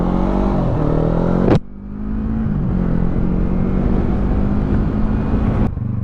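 A motorcycle engine roars up to speed on a ride to Talacre Beach in North Wales, loud and continuous with a sharp gear-change dip before pulling steadily again, wind rumble underneath, no talking.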